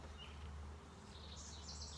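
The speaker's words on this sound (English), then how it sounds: "whole lot of bees on the wall here." Honeybees hum at a hive wall around a queen castle frame, a faint, steady low drone with a few thin higher tones drifting above it, and no voices.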